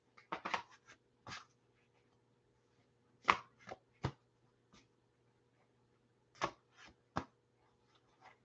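Spirit of the Animals oracle cards, large in size, being shuffled by hand: a run of sharp, separate riffling slaps and card snaps in quiet irregular bursts, close and crisp, with no talking.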